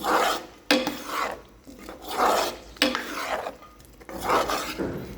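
Potato curry gravy with green peas is stirred in a pan with a spoon, giving soft rasping scrapes that swell and fade in slow, steady strokes about every two seconds, with no talking.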